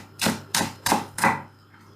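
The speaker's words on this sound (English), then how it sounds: "And now, chop green onions to taste." Four crisp knife chops through green onions on a cutting board, evenly spaced about a quarter second apart, close and clear with no talking.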